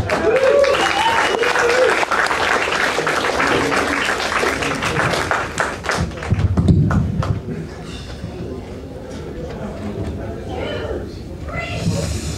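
Audience applause and scattered whoops after a comedy set at an open mic night in a brew house gallery, a dense, loud wash of clapping that thins toward the end as voices begin to come through.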